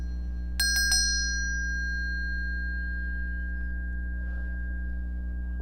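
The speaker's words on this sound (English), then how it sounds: "I'm gonna ring this bell." A small hand bell is rung to close a tarot reading, giving two quick bright strikes near the start whose clear metallic tone then rings on and fades slowly over a low steady hum.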